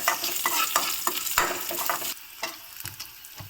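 Vegetables sauté with salt in a pan for a home-cooked sambar lunch, soft sizzling under repeated scraping stirs of a spoon against the pan, close by.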